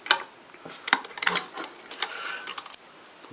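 A sewing machine runs in quick bursts of rapid mechanical ticking while back-stitching a few stitches on a patchwork star ornament, close and clear with short pauses between runs.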